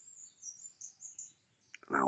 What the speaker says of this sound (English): Just laying here, listening to the sheep in the fields over there. And the birds.